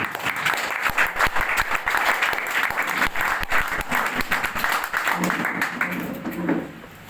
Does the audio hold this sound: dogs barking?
no